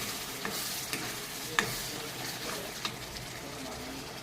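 A spice paste of ground ginger and green chilli fries in oil in a pan with a steady close sizzle, broken by occasional scrapes and clicks of stirring.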